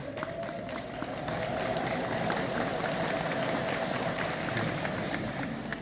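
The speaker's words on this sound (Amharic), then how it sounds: "እልልታው ለምኑ ነው?" A church congregation ululates together, a sustained high trilling chorus over a dense bed of crowd noise and scattered clapping, holding steady throughout.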